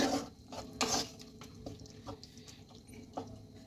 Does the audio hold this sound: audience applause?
no